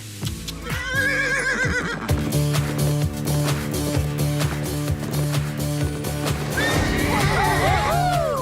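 A mare neighs loudly in an animated cartoon, with two drawn-out whinnies at the start and near the end, over galloping hoofbeats and a steady musical score.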